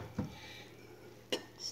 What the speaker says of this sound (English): Don't stir too much.